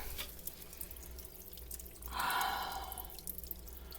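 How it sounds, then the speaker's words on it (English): Water leaks from a pipe in a faint, quiet drip, with a louder trickling gush swelling briefly in the middle before fading back. "We got a pipe leaking."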